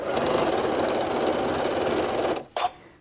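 A sewing machine stitching down a quilt facing from the corner runs steadily with a fast, even whirring chatter for over two seconds, stops abruptly, then gives one short burst.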